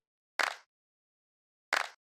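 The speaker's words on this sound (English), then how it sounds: "The first one is the clap, which sounds like this." Two sharp, bright clap hits about a second and a half apart, each with a short noisy tail, alone against silence.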